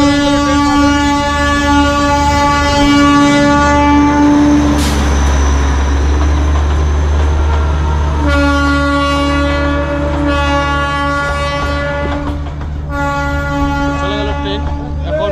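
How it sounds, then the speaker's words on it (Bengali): A Darjeeling train rumbles past nearby, its loud horn sounding in long sustained blasts over a deep low engine drone, with the horn breaking off and returning twice before the rumble carries on. "চলে গেল ট্রেন।"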